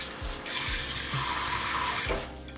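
Hot water from a tap streams steadily into a glass bowl, a close, full splashing rush that holds evenly for about two seconds, with faint bumps underneath, then trails off.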